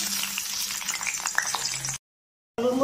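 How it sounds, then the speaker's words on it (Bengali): Potatoes frying in oil in a pan for a Bengali flat bean and poppy seed dish, a steady close sizzle that cuts out into silence near the end, then briefly resumes. "প্রথমে আলু ভেজে নিচ্ছি।"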